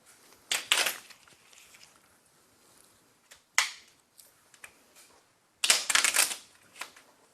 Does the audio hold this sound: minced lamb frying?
no